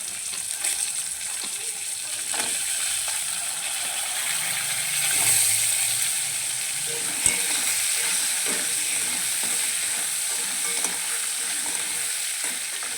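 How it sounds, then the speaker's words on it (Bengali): Crab claws fry in hot oil for a Bengali spicy crab curry, giving a steady, close sizzle with a few faint clinks and no voices. "ওই তেলের মধ্যে এবার কাঁকড়ার ওই দাঁড়াগুলোও ভেজে নেব।"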